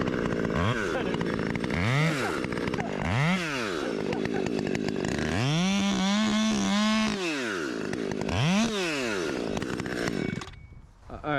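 A chainsaw trims brush high on a failed tree, its loud close engine rising and falling in repeated revs with a long sustained rev near the middle, before idling down at the end.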